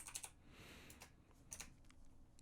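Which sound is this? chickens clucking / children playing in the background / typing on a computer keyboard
typing on a computer keyboard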